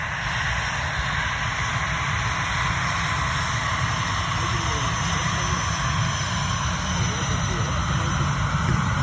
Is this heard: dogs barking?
no